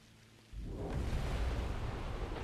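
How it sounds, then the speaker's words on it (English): Intense downpour in the survival game The Tribe Must Survive, starting abruptly after a quiet moment and then holding as a loud, steady rumbling wash of rain. "Dark clouds gather above us, bringing with them a rain more intense than ever before."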